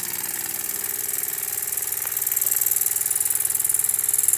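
A Jensen 75EL dual-fuel toy steam engine from 1971, electrically fired at 110 volts, runs at open throttle with a steady rapid chuffing and hiss that speeds up and grows louder partway through.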